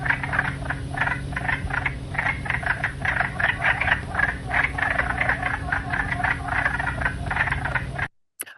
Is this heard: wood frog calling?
yes